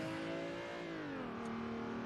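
A BMW E30 M3 engine revving in a drifting video game, a sustained mid-pitched engine drone whose pitch falls slightly then holds, loud and close with no talk.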